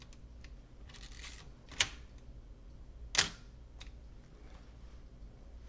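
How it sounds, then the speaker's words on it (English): Titanium focal plane shutter of a Nikon FM2 fired at 1/4000 second, giving two sharp, close mechanical clicks about a second and a half apart over a quiet, faintly hissing background. "there's your titanium focal plane shutter, and here's 1/4000th of a second."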